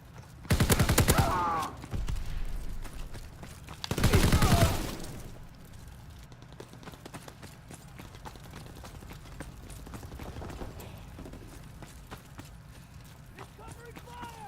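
Video game gunfire with rapid bursts of shots, loudest in two short volleys near the start and then thinner, scattered shots further back, while players talk over it.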